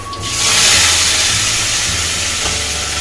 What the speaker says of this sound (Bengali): মাছ ভাজার পরে মাছের তেলটা ওই তেলের মধ্যে ভেজে নেবে